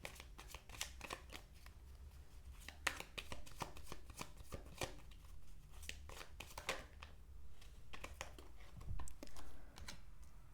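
Tarot cards are shuffled close by in a quiet room, giving soft rapid riffles and light slaps that come in uneven bursts, with no talking.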